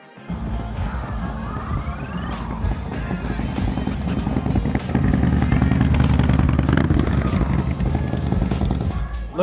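Motorcycles pulling up at a custom cycle shop open house, engines rumbling and building louder over several seconds, with clattering and a crowd murmur in the background.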